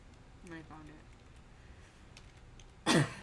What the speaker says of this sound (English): sorry I just coughed, that was gross